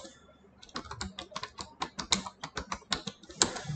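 Keys on a computer keyboard are pressed in a quick, irregular run of close, crisp clicks and taps, with no talking.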